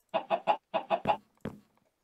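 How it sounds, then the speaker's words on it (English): A chicken in a video game clucks in six quick, even bursts, paired in two groups of three, followed by a softer, lower cluck; close and clear with no talking. "He's a big chicken."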